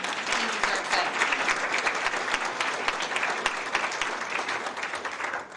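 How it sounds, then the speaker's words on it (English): An audience at a Franklin County Chamber of Commerce breakfast claps in sustained applause, a dense crackle of many hands that holds steady and then tapers at the end. "So please join me in giving Michael a round of applause."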